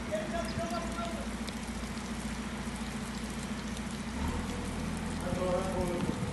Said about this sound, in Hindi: सलसल बारिश हो रही है सुबह से लेकर अभी तक